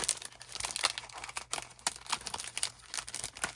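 Crinkly plastic packaging holding acetate flower pieces in a hydrangea mix crackles and rustles up close as it is pulled open, with a steady run of sharp crinkling bursts and no pauses.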